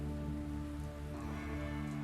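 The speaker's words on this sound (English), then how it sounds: "Hearing rain now. Sounds of rain." Steady rain patter blended into a 1985 song, with sustained tonal layers and a constant wash of drops, fairly loud and continuous throughout.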